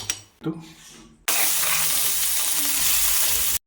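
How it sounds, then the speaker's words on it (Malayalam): Crushed spices dropped into hot coconut oil in a wok, a sudden loud sizzle that bursts in and holds steady for a couple of seconds before cutting off, after a few quieter clinks. "ഇനി നമുക്ക് ചീനിച്ചട്ടിയിലേക്ക് വെളിച്ചെണ്ണ വെച്ചിട്ട് ഇത് ഇട്ട് മൂപ്പിക്കാം"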